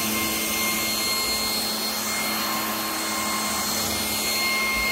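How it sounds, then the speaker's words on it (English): A Hompany vacuum cleaner runs close by, giving a steady, whining roar with a high motor tone and no pauses. "This thing is an Amazon vacuum."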